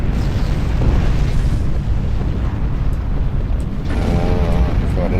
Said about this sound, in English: Oh, a torpedo.